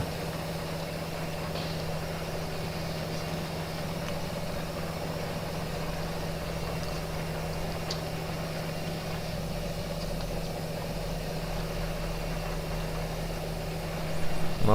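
A tractor engine in Farming Simulator 2013 idles in a steady, even drone with a low hum that holds unchanged for the whole stretch, close and moderately loud, with no talking over it.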